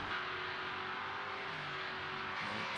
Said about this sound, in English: I love the sound of the engines when they come around that hairpin with that camera. It's just like thudding away.